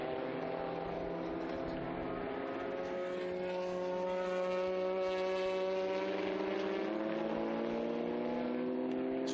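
Historic race cars, a yellow Porsche and a yellow Chevrolet Corvette, battle at the Estoril Classics circuit. Their engines make a loud, sustained roar that climbs and shifts in pitch as they accelerate, heard without any talking.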